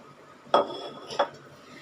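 A metal lid goes onto a pot of simmering cabbage kofta gravy, landing with two short clanks about half a second apart, close and fairly quiet.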